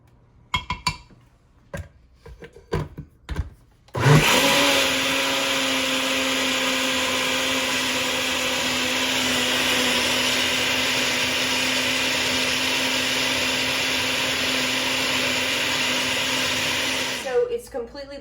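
A blender whirs steadily for about thirteen seconds as it purees pumpkin pie filling made with eggs, loud and constant, after a few short clicks and knocks before it starts and a sharp cutoff at the end.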